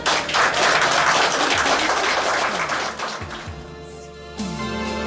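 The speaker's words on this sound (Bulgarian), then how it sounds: "Аплодисменти!" Applause at a civil wedding ceremony: dense, steady clapping fills the first few seconds, then thins as music with sustained tones rises and carries on to the end.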